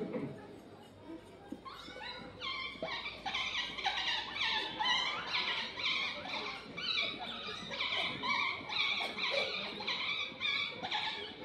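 A voice imitates a puppy with a string of high, whimpering yips and squeaky barks, repeated rapidly over several seconds, fairly close.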